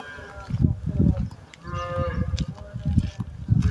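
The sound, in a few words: cows mooing at a farm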